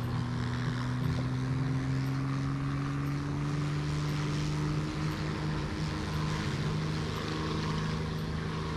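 Steady, unbroken drone of a propeller aircraft's engine flying in War Thunder in cockpit view, a low humming tone with a constant whirring roar that holds near and fairly loud throughout, with no voices.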